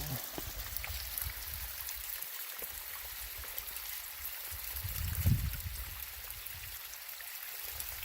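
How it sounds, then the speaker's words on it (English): A small stream runs through a little valley, making a steady, soft broadband rush with quiet trickling throughout, and a brief low thump near the middle. "So this whole little valley is fed by this one stream,"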